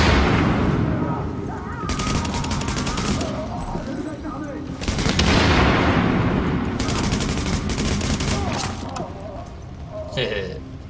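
Shooting in the video game The Division: loud, sustained bursts of automatic gunfire come in several long volleys with booming impacts, dense and close throughout.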